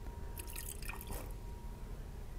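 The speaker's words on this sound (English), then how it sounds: "Now I'm going to add a small amount of water to the can" A small amount of water is poured into an empty soda can, giving a brief, faint trickle and a few drips over a low background hum.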